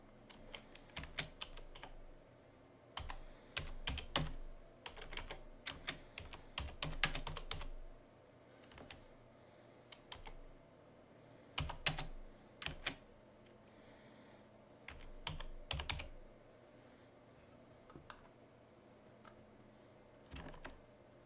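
Code goes in on a computer keyboard in quick bursts of clicky keystrokes, separated by pauses, close and fairly quiet in a calm room with no speech.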